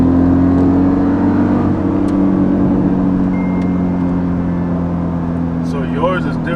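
Dodge Charger 392 engine pulling hard under manual paddle shifting, a loud steady drone with strong low harmonics that holds through the whole stretch, with people talking inside the cabin over it.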